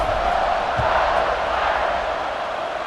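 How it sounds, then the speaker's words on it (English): Steady stadium crowd roar from a college football video game fills the air at a loud, even level with no breaks, a continuous wash of massed voices. "Do you think this crowd's going to get loud when their defense comes on the field?"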